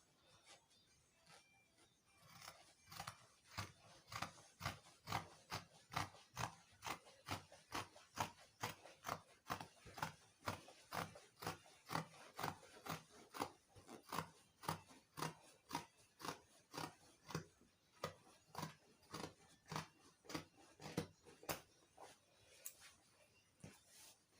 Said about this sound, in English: So I'm going to cut it out now.